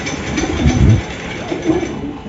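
Pigeons being held for wing clipping give low, soft coos close by, with a muffled rustle and faint background hum underneath.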